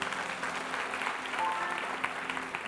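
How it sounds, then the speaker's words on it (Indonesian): Church congregation applauding during a sermon, a continuous roomy patter of many hands clapping at moderate level, steady throughout with no talking. "Beri tepuk tangan untuk Tuhan."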